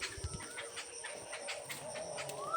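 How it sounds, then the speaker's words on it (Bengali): Morning bird calls and cooing in a quiet place, fairly close and steady against a soft outdoor background, with a rising chirp near the end. "সকালে পাখির ডাক"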